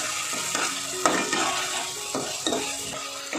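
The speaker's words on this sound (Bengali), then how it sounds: "এখন আদা রসুন বাটাগুলোকেও পেঁয়াজ বাটার সাথে ভালো করে ভেজে নেব।" Onion, ginger and garlic paste frying in a pan for egg masala curry, a constant sizzle broken by repeated scraping stirs of a spoon against the pan, close and clear, no speech.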